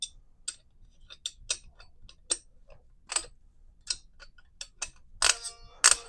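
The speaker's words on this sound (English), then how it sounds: "All right, so we hear it start ratcheting." A torque wrench ratchets while tightening an M60E6 gas system, giving faint, sharp clicks in an uneven rhythm that grow louder and cluster toward the end.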